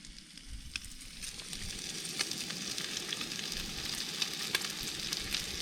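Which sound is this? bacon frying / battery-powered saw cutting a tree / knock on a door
bacon frying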